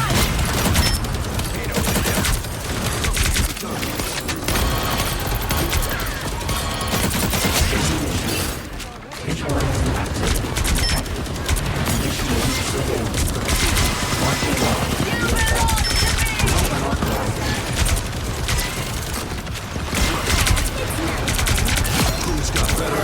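Dense, continuous gunfire in the hero shooter Marvel Rivals, loud rapid bursts running almost nonstop, mixed with game effects and character voices.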